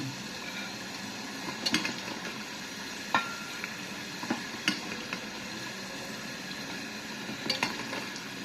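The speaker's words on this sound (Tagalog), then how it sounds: "Sa maliit lang po natin isinasalan itong french fries natin." Oil sizzling and crackling steadily as French fries fry in a small pot, with occasional sharp pops and spatters breaking through the bubbling.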